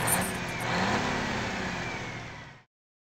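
A car engine revving and accelerating in the Midtown Madness video game, set in Chicago city traffic, fairly close and steady, rising slightly before cutting off abruptly into silence.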